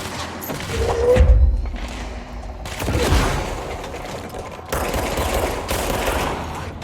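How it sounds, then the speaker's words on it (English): Enemy gunfire in the video game Control: bursts of automatic fire and heavy thuds come in waves, loud and close, with rattling shots layered over a dense mechanical game soundscape. "I don't know who was shooting at me just then."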